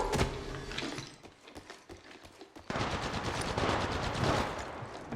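Rapid bursts of automatic gunfire from a video game firefight crackle in dense volleys, thinning briefly midway before resuming in a sustained, heavy stream of shots, with no voices.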